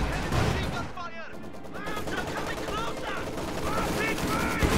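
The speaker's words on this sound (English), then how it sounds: "Stuka firing." Rapid bursts of gunfire from a Stuka dive bomber rattle amid a noisy game soundscape, with the diving aircraft's whine sweeping across, moderately loud and continuous.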